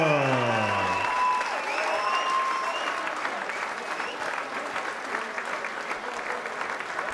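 Loud crowd applause in a boxing arena after a British bantamweight title bout, with a voice talking over it at the start before the clapping carries on alone and fades slightly.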